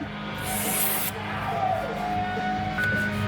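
Brake cleaner spurts from an aerosol can onto brake parts during a Camaro brake upgrade, a close hissing burst of about half a second over a steady mechanical background hum.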